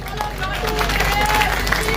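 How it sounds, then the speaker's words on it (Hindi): A crowd claps along at a live Khatu Shyam kirtan in Jhampur, loud continuous clapping blended with crowd babble and a hum of music underneath. "बाबा के नाम की ताली ताली में बजा दी"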